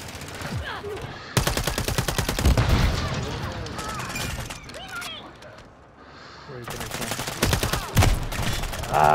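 Call of Duty gunfire rattles in rapid automatic bursts, loud and close, broken by short pauses, while a player talks over the shooting.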